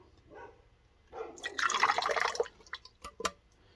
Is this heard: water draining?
yes